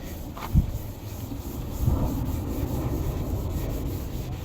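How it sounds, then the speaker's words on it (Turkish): Steady, close rubbing and scrubbing of a sponge with Cif cleaning cream on a car headlight, a soft gritty swishing that continues evenly with a couple of small bumps near the start. "Böyle yanık olan yerlerde daha bir fışır fışır fışır ediyor"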